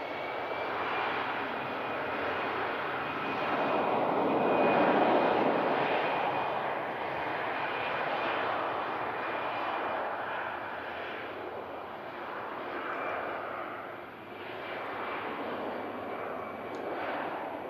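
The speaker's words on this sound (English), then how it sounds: "Austrian 320 rotates" An Austrian Airlines A320 takes off and rotates at a fog-bound Manchester Airport, its engines giving a loud, steady roar that swells midway and then holds, heard alone without voices.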